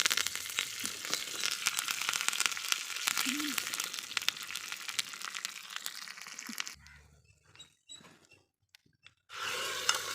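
Curry leaves crackle and sizzle loudly in hot oil during tempering for a village-style drumstick-leaf masiyal, a dense continuous frying hiss that cuts out abruptly, leaving near quiet, then bursts back briefly at the end.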